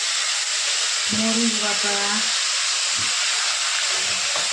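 Ginger-garlic and chili pastes fry in hot salted oil for a vegetable curry with radish, beans, eggplant and fish. The oil gives a loud, constant sizzling hiss with spattering throughout, and a voice speaks briefly over it.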